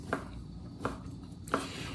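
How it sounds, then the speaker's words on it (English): A knife chops cooked chicken on a cutting board for chicken salad, making three distinct thuds about 0.7 seconds apart over a steady background hum, close by. "So what I'm doing here is I'm chopping the chicken."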